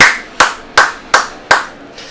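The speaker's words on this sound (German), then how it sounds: "Applaus!" Five loud, evenly spaced claps close by, each ringing out briefly before the next, with no talk over them.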